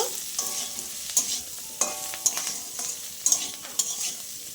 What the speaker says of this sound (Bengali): লবণ আর হলুদটা দিয়ে আমি আরেকটু ভেজে নেব